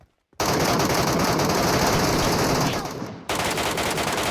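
Rapid automatic gunfire from the battle royale game PUBG Metro Royale, a loud dense burst lasting several seconds that stops briefly near the end and then resumes.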